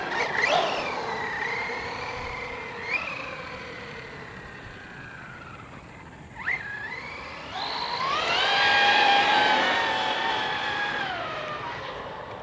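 An Arrma Granite 665 RC truck converted to a brushless motor runs at speed with a high electric whine that rises and falls in pitch as it accelerates and slows, surging loudest near the end.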